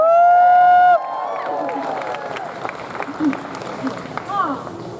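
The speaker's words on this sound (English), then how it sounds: "let us have another round of applause for our Master of Revel hereupon" A crowd claps and murmurs at the queen's court of the Pennsylvania Renaissance Faire during Halloweekend, with steady applause rising after a short sustained tone and voices calling out over it.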